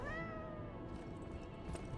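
A cat in the video game Lies of P gives a clear rising meow at the start, then softer purring and mewing follows close by against a steady game ambience.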